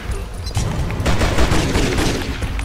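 Gunfire in the video game Jet Li: Rise to Honor, a dense loud fusillade of rapid shots and crackling bursts that rolls on continuously for a few seconds.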